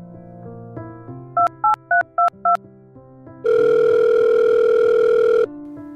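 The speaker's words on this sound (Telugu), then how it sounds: "నాని, ఈ నెంబర్కి డయల్ చేయరా." A phone keypad beeps through a quick run of dial tones, five short even pulses, then a long steady tone before a lower hum resumes.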